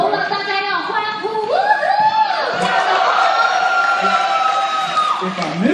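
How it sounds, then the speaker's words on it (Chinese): A studio audience at a Shandong TV show with a basketball star whoops and cheers loudly after a basketball shot. Rising and falling voices blend into a sustained, excited crowd roar. "If I make the shot, give me a cheer."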